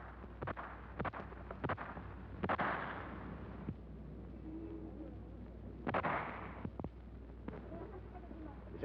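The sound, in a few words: gunshots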